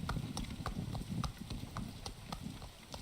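A horse's hooves clip-clop at a steady trot in the Travellers Rest video game, a regular rhythmic patter of soft thuds and light clicks, faint and continuous, with no voices.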